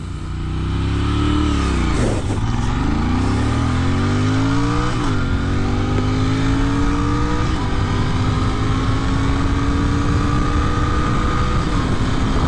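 A Royal Enfield Interceptor 650 motorcycle fitted with a Powertronic ECU launches and revs hard, its engine climbing through rising pitch sweeps with gear shifts, loud and close with no talking.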